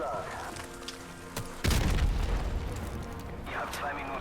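An air strike in Call of Duty Modern Warfare hits with one sudden, loud, close boom that rumbles on and fades slowly, while voices talk before and during it.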